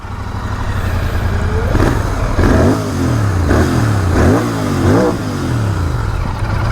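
A GT motorcycle's engine starts and revs up close, the throttle blipped again and again in a steady series of rising and falling surges over a constant idle.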